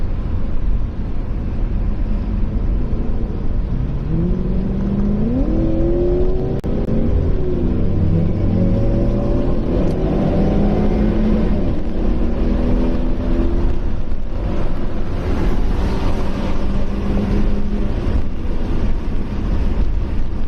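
A McLaren sports car on a racing track at Lakeside, Australia, heard as a loud engine note rising and falling through gear changes under strong, constant wind and road roar.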